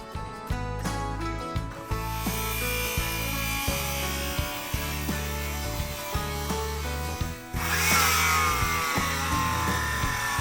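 A walnut live-edge shelf board being cut to square its back edge, with repeated rhythmic sawing strokes in steady back-and-forth cycles, close and continuous, with no speech.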